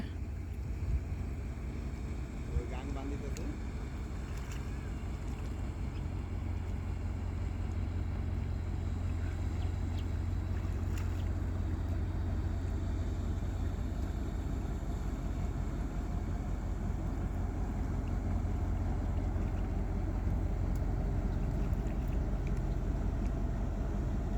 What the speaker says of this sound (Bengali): ওই দেখেন একটা জাহাজ আসছে